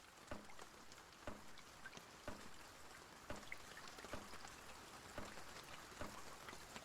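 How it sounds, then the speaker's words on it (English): Steady broadband rain patter in the Escape the Pacific 2 island survival game, a continuous hiss with scattered droplet ticks and soft periodic knocks, moderately loud and alone. "It is raining an awful lot."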